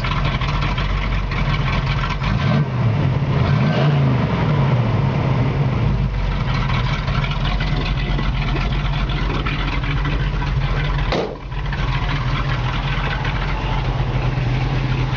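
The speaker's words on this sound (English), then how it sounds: "It's got a brand new exhaust. It sounds very nice." A 1969 Pontiac Firebird Convertible with a mild cam idles steadily through a brand-new exhaust, a deep, throaty rumble, close by and continuous, with a brief dip near the end.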